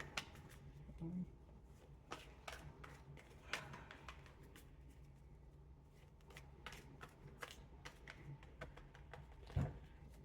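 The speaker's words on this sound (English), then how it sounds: "I got to get 3 clean shuffles in" Tarot cards being shuffled by hand in repeated bursts of quick riffling, close and fairly quiet, with occasional soft taps and handling noises between shuffles.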